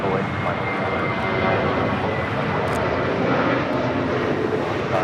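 An airliner takes off from runway 25 right at Los Angeles International Airport, its engines a loud, steady roar that holds unbroken throughout, with faint radio chatter and talk beneath.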